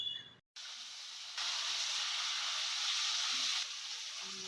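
Potato pieces dropped into hot oil already tempered with cumin, bay leaf and dried chilli, a sudden loud hiss that swells into a steady close sizzle, with faint clinks of a utensil.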